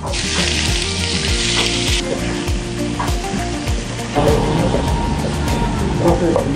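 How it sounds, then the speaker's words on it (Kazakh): Meat for kuyrdak sizzles and spits steadily in hot vegetable oil in a heated pan, loud and close throughout, with stirring noises and a voice talking over it. "Майымыз қызған кезде етімізді қуырып аламыз."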